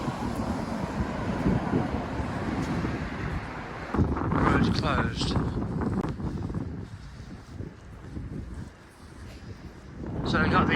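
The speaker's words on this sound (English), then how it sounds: "there's a wind noise, folks. It's a bit windy today." Strong gusting wind buffets the microphone outdoors beside a closed road in Blackpool, a loud continuous rumble that swells and eases, with someone speaking briefly over it.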